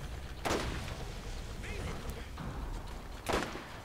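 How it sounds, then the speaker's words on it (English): Two heavy shotgun blasts boom in the Borderlands video game, spaced about three seconds apart, each a sharp thump over low game ambience, with a voice talking quietly between them. "I'm shooting at something in the distance with a shotgun"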